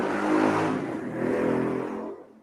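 A motorcycle revs as it passes by, a loud broad engine roar that swells, dips and swells again, then fades away within a couple of seconds.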